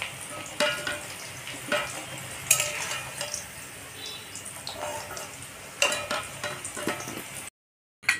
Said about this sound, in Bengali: তো ওই তেলে আমি আবার ফুলকপিগুলো ভেজে নেব।